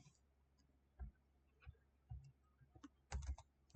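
Someone types a prompt on a computer keyboard, a few faint, close key taps in short irregular bursts against a quiet room.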